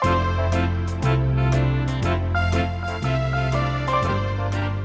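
An upbeat swing tune at a brisk, steady 120 bpm, with a walking bass and bright piano or guitar chords on each beat.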